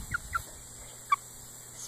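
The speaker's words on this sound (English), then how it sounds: "the hybrid, Americana hybrids are more squawky than the others" Two-month-old Americana hybrid chickens give three short, faint, high squawks: two in quick succession, then one more a moment later over quiet background.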